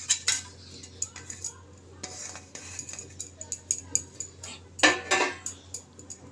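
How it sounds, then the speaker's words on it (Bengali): A spoon stirs a spinach breakfast batter with chopped coriander in a bowl, giving a run of close, irregular metallic clinks and scrapes with a louder cluster near the end; no one speaks. "এখন একটু মিশিয়ে নেব।"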